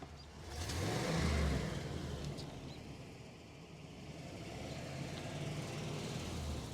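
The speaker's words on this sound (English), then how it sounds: "Rev the engine, sir." An all-original 1976 Chevrolet Monte Carlo engine revs outdoors, swelling to a loud roar, easing back, then climbing again in a steady, rumbling drone.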